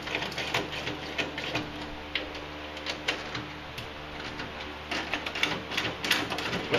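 Ratchet with a 10mm socket unbolting the rail of a skateboard, giving quick repeated clicking bursts close up, fairly loud and irregular, with no voices.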